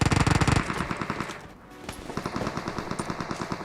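Automatic gunfire in PUBG Mobile rattles out in fast, loud, close bursts, breaking off briefly in the middle before a second sustained string of rapid shots.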